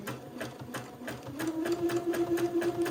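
A sewing machine runs a zigzag stitch along the bottom of a little gown's sleeve hem, giving close, fast, even mechanical clatter with a motor whine that rises and steadies partway through.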